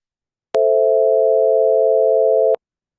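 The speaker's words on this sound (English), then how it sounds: "So there's a chord containing three tones, and here are those three tones." Three pure sine tones forming an A minor chord, A, C and E, sound together as one steady, clean electronic chord lasting about two seconds with abrupt start and stop, alone against silence.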